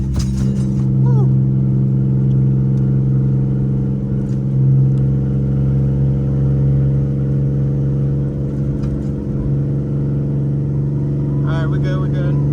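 An Infiniti G37 driving, its engine giving a steady low hum with mild swells of revving inside the cabin, while the driver talks over it.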